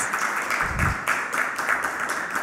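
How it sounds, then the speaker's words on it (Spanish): Audience applause at the close of a Spanish-language talk on humanism and antispeciesist education, a steady wash of many hands clapping at moderate level with no voices, fading slightly toward the end. "pues le damos un aplauso a Katia, por favor."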